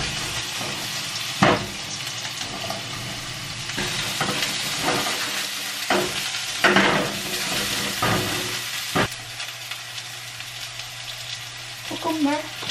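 Garlic and spring onion fry in hot oil with a steady sizzle, broken by the occasional scrape and stir of a spatula in the pan.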